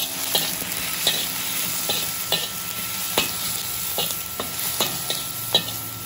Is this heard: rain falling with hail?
no